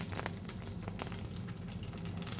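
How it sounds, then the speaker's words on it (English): Cumin seeds sizzle in hot oil with a close, continuous crackling fry, dense and bright, with small pops throughout. "The oil is ready. So when I put the cumin seed, you see how it flutters?"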